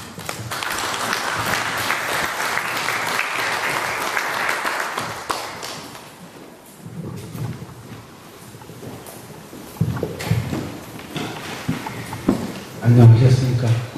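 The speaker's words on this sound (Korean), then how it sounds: "지금 현재 원광대 교수로 계신 박맹수 선생님을 큰 박수로 모시겠습니다" Large audience claps to welcome a lecturer at a public talk on Donghak thought, a broad wash of applause for several seconds that fades out, followed by someone speaking amid low room noise.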